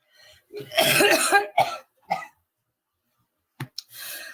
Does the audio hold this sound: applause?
no